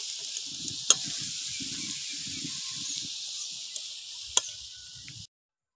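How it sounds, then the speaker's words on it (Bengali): Cumin seeds tempering in hot oil, a steady high hiss of sizzling with a few sharp pops and soft stirring scrapes underneath, close and continuous until it cuts off abruptly. "এবার জিরে ফোড়ন দিয়ে দিচ্ছি"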